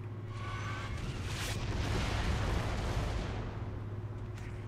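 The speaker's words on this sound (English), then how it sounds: "Mortar coming on you guys." Incoming mortar fire in Gears of War 3 rolls in as a sustained, heavy rumbling barrage, loud and broad, with a low steady drone running underneath throughout.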